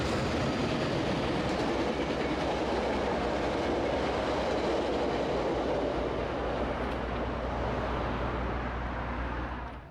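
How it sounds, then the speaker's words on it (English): A Metrolink commuter train rolls past a BNSF intermodal yard, its steady loud rumble and wheel clatter filling the whole stretch without a break before easing off slightly at the very end. "here's a Metrolink going by that BNSF Intermodal yard"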